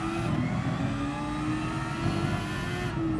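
A race car in GT Sport accelerates hard, its engine note holding steady and loud with a slowly rising pitch throughout, heard alone without voices.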